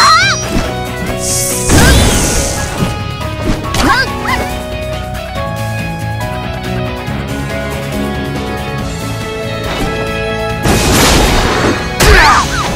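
A Naruto Online match plays out with repeated game impact effects, several loud crashing bursts and booms over a continuous musical soundtrack, with the heaviest hits clustered near the end.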